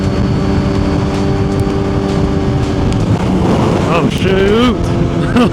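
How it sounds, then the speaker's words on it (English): Steady roaring wind buffets the microphone over a droning motorcycle engine while riding beside water, with a rising, wavering tone appearing near the end. "so it's really windy over here"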